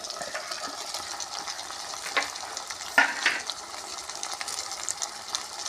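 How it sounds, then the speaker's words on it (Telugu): Eggs dropped into a pan with drumsticks and tomato, sizzling and frying steadily with a couple of brief louder spatters partway through, no talk. "ఇప్పుడు వేపుని గుడ్లు వేసుకుందామండి"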